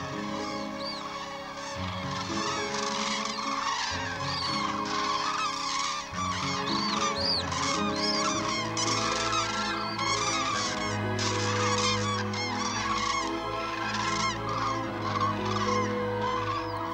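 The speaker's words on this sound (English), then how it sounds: "Their loud trumpeting call gives a distinctive sound to the swamps in autumn." Cranes give loud, overlapping trumpeting calls over autumn swamps in a primeval forest, a dense continuous chorus of honking cries layered over one another and ringing out across open wetland.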